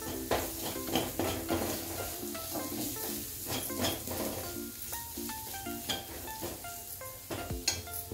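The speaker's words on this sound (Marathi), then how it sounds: "थोडीशी हळद घालून घ्यायची आपल्याला, परतून घेऊया।" Vegetables dusted with turmeric sauté in a pan, a steady close sizzle broken by repeated scraping stirs and light clinks of a spoon against the metal.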